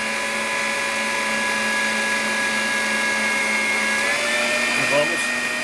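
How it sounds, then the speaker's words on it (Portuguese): An electric mixer beats butter and sugar for a buttery cake batter, a steady whining motor hum running throughout at even loudness, with a brief pitch wobble near the end. "Agora aqui nós vamos bater aqui mais uns 3 minutinhos para incorporar o açúcar à manteiga"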